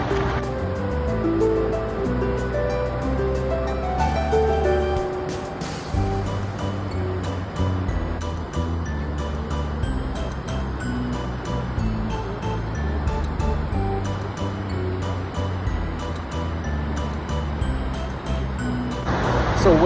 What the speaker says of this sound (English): back behind me is the Goosfoss, which is a beautiful waterfall, stunning views